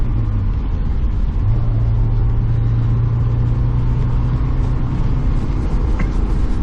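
Honda S2000 engine running with a misfire while driven gently, a loud, steady close rumble with a continuous low drone throughout, no talking.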